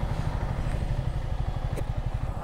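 A motorcycle with strong torque labours up a steep hill road in a low gear, its engine a close, rapid throbbing thrum that pulses evenly for the whole stretch.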